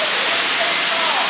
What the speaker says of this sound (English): Basically we made it to the waterfall and Ronka